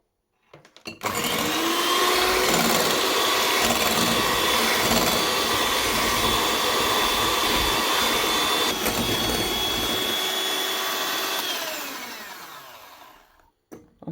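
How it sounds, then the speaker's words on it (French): An electric whisk whips cream for mango and pineapple ice cream, a loud, steady high-pitched motor whine running unbroken for about ten seconds before it winds down and stops. "moi je vais utiliser un fouet électrique"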